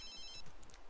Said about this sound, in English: Answer that stupid phone.